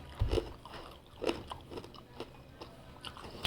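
Crunchy homemade chicharon pork cracklings bitten and chewed close up, one sharp crunching bite followed by a series of quieter rhythmic crunches and munching sounds.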